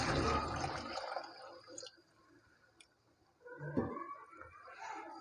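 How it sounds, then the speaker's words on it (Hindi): Water poured into a pot of aloo gosht with meat and potatoes, a soft sloshing pour at the start that stops, followed by quiet clicks and a brief second splash, faint and close. "ये ले जी पानी डाल दिया हुआ है।"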